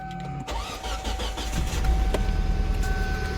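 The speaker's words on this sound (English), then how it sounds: "So what I'll do is I'll now start the vehicle on" A 2007 Kia Sportage cranks briefly and its engine catches, then settles into a steady, fairly loud idle close by. No one speaks over the sound.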